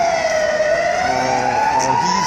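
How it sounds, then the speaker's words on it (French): A siren wails at a street demonstration in Mons, Belgium, one loud, steady rising and falling tone that fills the whole stretch, close by and without talk. "Je sais pas pourquoi ils ont mis les sirènes"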